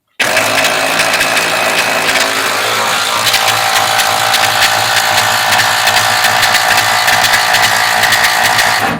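A hand ratchet clicks rapidly and steadily as it tightens a coil spring compressor through the shock hole on the front chassis of a 1978 Oldsmobile Cutlass, loud and close for the whole stretch.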